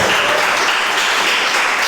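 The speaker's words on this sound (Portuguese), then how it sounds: "Vamos aplaudir esse Deus aí." A church congregation applauds together during a worship service, a dense, steady wash of clapping from many hands that fills the space loudly and evenly with no pauses.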